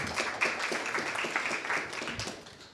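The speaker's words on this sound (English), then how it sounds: "One more applause, please." Audience at a cyber meetup clapping in a dense, steady round of applause, many hands close together, fading slightly toward the end.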